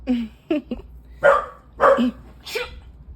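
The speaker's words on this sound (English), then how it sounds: "these dogs swear they need to bark" Several dogs barking indoors near a hallway, a handful of sharp, loud barks and yips spaced across a few seconds, close by with no talking.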